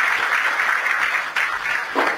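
Audience applause at a public event in Ayodhya attended by Chief Minister Yogi Adityanath: a dense, steady wash of many hands clapping at once, loud and sustained throughout, with a brief dip partway before swelling again.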